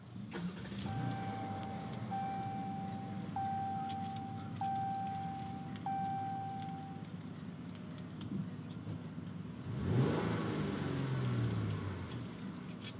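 A 2019 Jeep Cherokee Latitude Plus started with a push button: a series of interior chimes sounds first, then the engine cranks and catches around ten seconds in, settling into a steady idle heard from inside the cabin.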